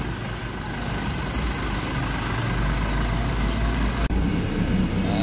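Pesantren bus engine running, a steady low rumble with continuous road and cabin noise, heard from inside the vehicle with a brief bump partway through.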